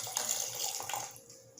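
A healthy two-ounce pour of Todd and Vixen's spirit splashes into a glass in a distillery bar, a brief close liquid trickle that tapers off after about a second.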